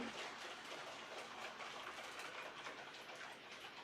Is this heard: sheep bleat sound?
no